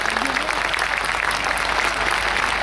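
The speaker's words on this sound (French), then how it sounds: "Applaudissements pour lui, s'il vous plaît, pour les amis sonneurs." Steady applause from an outdoor crowd in the stands for a horn ensemble after a fanfare at the Haras du Pin national stud, 2017, a dense even clatter of clapping throughout.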